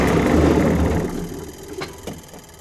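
The engine of a Spartan CVR(T) armoured vehicle runs just after being started, a rough, rumbling low idle that fades over about two seconds, followed by a couple of faint clicks.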